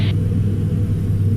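A light aircraft engine runs hard at high RPM on a cross-country flight around Avignon, a steady, loud, low droning rumble filling the cabin with no break.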